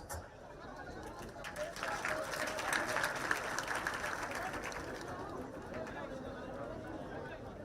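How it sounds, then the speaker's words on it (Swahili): An audience at a devolution sensitization week event in Kenya applauds in a steady wash of clapping that builds and then slowly fades, with chatter and voices mixed in. "makofi tafadhali"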